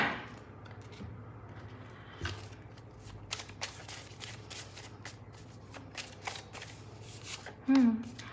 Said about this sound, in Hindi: मैं इन कार्ड्स को हटा लूँ गाइस ताकि यहाँ पर स्पेस क्रिएट हो जाए